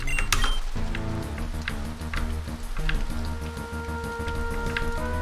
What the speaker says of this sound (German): Saurer Regen hier.